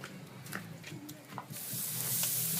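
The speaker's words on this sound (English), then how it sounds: "So I'm going to go ahead and throw the thickest steak" A thick salted steak hits the hot grate of a Komodo Kamado grill over live flame, and a loud, steady sizzling hiss builds and then holds, with faint crackles before it.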